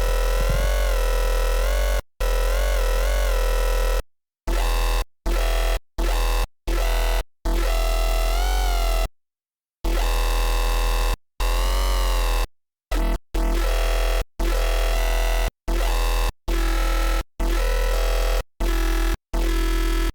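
A gritty, heavily processed dubstep synth bass from Serum 2 growls in chopped bursts, cut by abrupt silent gaps into a stuttering rhythm, loud and dense.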